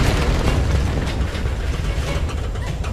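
Explosions in the video game Tomb Raider Definitive Edition, a dense continuous roar of booms and crashing debris, loud and close and filling the whole stretch with no talking.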